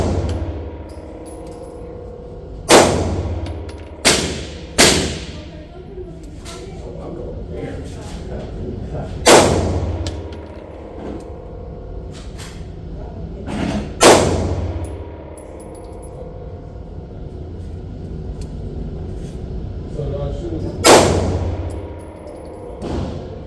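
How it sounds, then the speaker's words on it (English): Several sharp pistol shots from a Girsan High Power handgun at a shooting range ring out one at a time at irregular intervals, some closely paired, with muffled ambient range noise between them. "let's get a few more rounds off, and I'm gonna shoot at a different pin"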